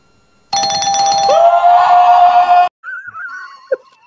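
A loud electronic chime rings out in a sustained two-tone ding-dong for about two seconds, then cuts off abruptly, followed by quieter voice-like sounds and a brief sharp noise.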